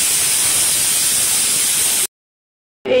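A pressure cooker steams meat with a loud, steady, hissing whistle for about two seconds that cuts off abruptly, followed by a short silence and the hiss starting again.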